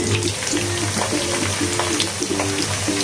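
Cloves and other whole spices fry in hot oil for a beef biryani, followed by ginger paste, giving a steady close crackling sizzle with faint stirring, no talk.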